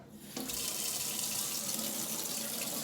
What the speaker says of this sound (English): so I'm just gonna fill my water bottle.